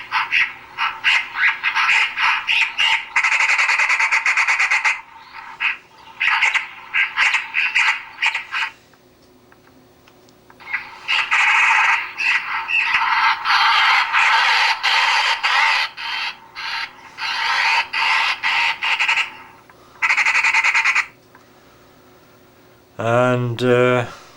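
A magpie call played through an electronic crow caller, sounding as loud, repeated bursts of harsh chattering in several runs separated by short pauses.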